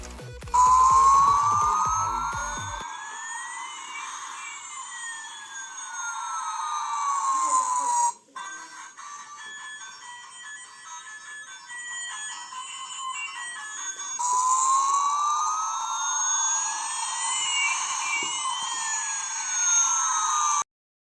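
An Ultraman Zero toy bracelet plays a loud electronic alarm effect with rising and falling siren sweeps, then a burst of electronic beeps, then the sweeping siren again. Near the start a voice is heard briefly.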